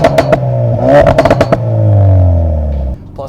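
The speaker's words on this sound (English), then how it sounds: "the exhaust note, we'll do a cutaway and show you what it sounds like from the back of the car" Exhaust note of a 2017 Ford Focus RS heard from behind the parked car, a few sharp revs, then a long rising and falling rev that settles back to idle, close and loud.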